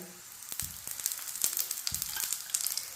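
A paratha fries in oil on a pan over a medium flame, giving a steady, close sizzle with soft crackling bursts and no talking.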